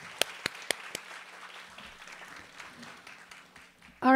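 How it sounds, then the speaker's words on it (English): Audience applause at the closing of a Hindu women's conference, starting with a few sharp, loud claps and then settling into a quieter, thinning patter of clapping, ending with a sudden loud burst. "Let's give a round of applause for all of you."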